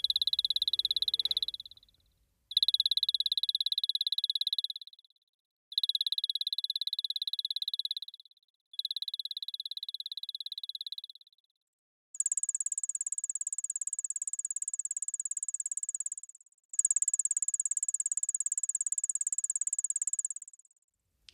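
Synthesized cricket chirping made from simple oscillators and looping envelopes, mimicking a cricket's file and scraper: six clean, buzzy tonal bursts separated by short gaps, the last two higher-pitched and longer, heard alone.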